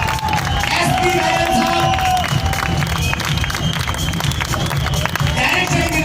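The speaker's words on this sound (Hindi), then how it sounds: "जोरदार तालियों के बीच आमंत्रित कर रहे हैं" Audience at a direct-selling corporate event claps and cheers loudly and continuously as a guest is welcomed on stage, with a voice talking over the crowd.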